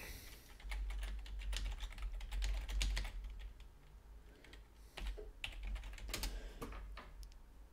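Computer keyboard typing, close and quiet, in quick bursts of keystrokes with a short pause midway before another run of clicks.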